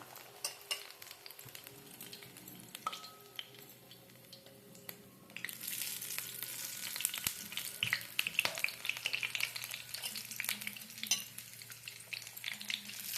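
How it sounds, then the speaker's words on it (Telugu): Cauliflower bajji fry in hot oil, a quiet crackle that swells into a loud, dense, bubbling sizzle partway through, with light stirring scrapes. "చూడండి, క్యాలీఫ్లవర్ బజ్జీలు."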